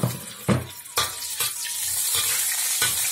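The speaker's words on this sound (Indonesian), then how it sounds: "Kemudian kita goreng buncisnya" Green beans frying in hot oil with a loud, steady sizzle, broken by several sharp stirring scrapes of the pan about every half second, close up and with no talk.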